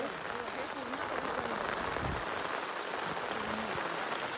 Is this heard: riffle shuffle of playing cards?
no